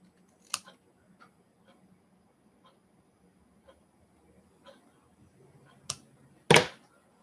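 Scissors cutting paper while finishing a postcard: a few scattered soft snips, then two sharper, louder cuts near the end, close and isolated with no talk.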